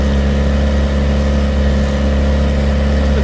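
A tractor engine runs steadily at a steam and gas engine society plow day, a constant close mechanical drone with a low hum and no change in pace, no voices over it.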